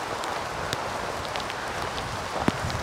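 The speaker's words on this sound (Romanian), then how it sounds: "Plouă peste sat." Steady broadband rain falling over a village in the Apuseni Mountains, a dense even hiss with a few sharper drops tapping nearby, continuous and moderately loud throughout.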